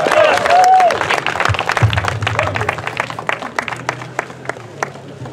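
Crowd applause for the CVEA youth at the 2021 grand opening and dedication of the Larry Itliong Resource Center, steady clapping from a gathered audience with some voices mixed in, after a brief high whistle-like tone at the start.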